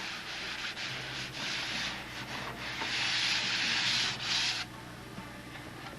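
Close, continuous abrasive rubbing of sanding against a surface, a steady hissing scrape that grows louder midway, then drops to a quieter rasp.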